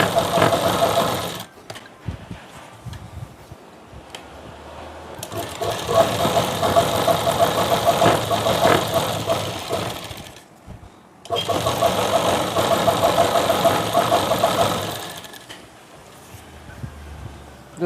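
A sewing machine runs straight stitches along a salwar in bursts, a steady mid-pitched whirring hum that stops briefly around two and eleven seconds before resuming, loud and close with faint speech in the background.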